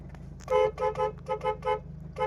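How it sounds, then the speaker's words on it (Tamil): A Toyota Etios car horn honks in a series of short toots, five or six bursts in quick succession, close by with a faint engine hum underneath. "ஹாரன் அடிக்குது"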